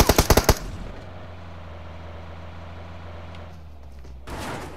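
Gunfire in PUBG Mobile: a quick burst of about five loud, sharp shots at the start, then a low steady rumble with a faint pop near the end.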